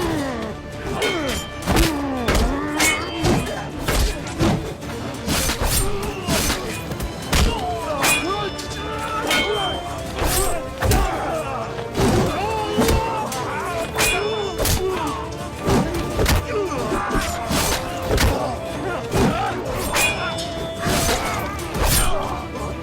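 Swords clash during a battle scene in a historical drama, a dense, loud, continuous din of metallic strikes, thuds and impacts, with shouting voices mixed into the fray.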